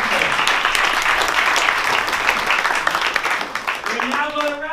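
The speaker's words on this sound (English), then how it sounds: "So let's start with a great big round of applause to our two speakers," Audience applause for two speakers at a technical talk on in-database analytics with GPUs, a dense steady wash of many hands clapping together for several seconds, close and loud, fading slightly near the end with a voice starting up.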